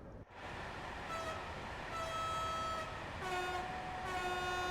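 A video game train rumbles past with steady broadband noise while several sustained horn tones sound in overlapping blasts, loud and continuous throughout.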